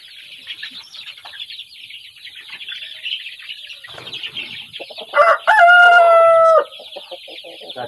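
Young chicks peep constantly in a garden orchard, a dense, close chorus of high chirps, with some rustling, then a loud rooster crow breaks in near the end.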